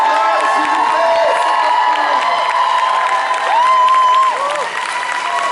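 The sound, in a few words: audience applause and cheering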